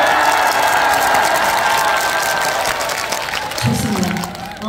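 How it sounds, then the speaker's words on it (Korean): At an outdoor festival concert by a riverside, a large crowd breaks into loud applause and cheering that fills the space, then thins slightly, and a voice talks over the end. "여기 위에 계신 여러분들도 다 같이 박수와 함성 아시겠죠?"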